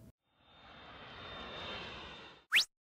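A fixed-wing airliner's engines drone steadily in the cabin during a flight to Jeju Island, swelling gently over a couple of seconds before a short, sharp rising chirp ends it; no one speaks.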